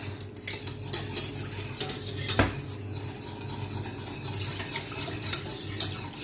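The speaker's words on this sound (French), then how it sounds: "je vais bien mélanger" A spoon stirs a mixture in a bowl for Brazilian cheese bread, steady scraping and clinking strokes with sharper metal taps, close and alone without talk.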